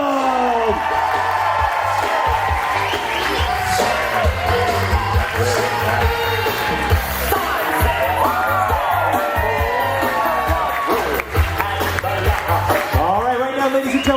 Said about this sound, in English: let's keep that applause going for parents of the bride